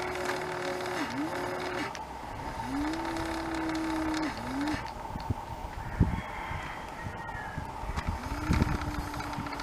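A Sur Ron electric dirt bike on Super Moto tires rides on muddy ground, its motor whine rising and falling in a few drawn-out surges among outdoor noise and scattered bumps.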